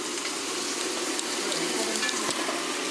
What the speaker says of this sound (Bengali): আর এদিকে আমি মাংসের জন্য পেঁয়াজ চাপিয়ে দিয়েছি